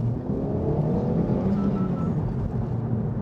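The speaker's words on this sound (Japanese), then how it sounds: "さあ料金所からのフル加速。" A Honda Civic Type R accelerates at full throttle away from a toll booth, its engine droning loudly and rising in pitch as it pulls through the gear, heard from inside the car with no talking.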